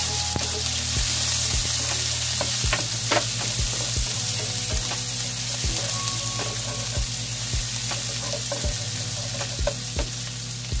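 Chopped onions and tomatoes sizzling in a hot pan as they are stir-fried, a steady close crackle with regular scraping strokes of a spatula against the pan throughout.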